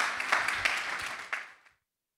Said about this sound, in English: Big round of applause for Christina.